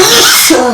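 A single brief, loud sneeze burst close to the microphone during a podcast conversation, sharp onset trailing off quickly.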